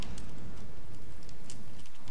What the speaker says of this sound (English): Once again, raining, of course,